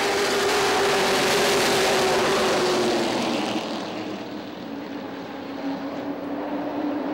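Race cars at Motordrome Speedway roar off at the green flag of a 40-lap race, a loud sustained engine drone from the field that swells and then eases slightly as the pack moves away.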